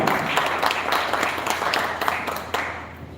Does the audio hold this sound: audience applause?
yes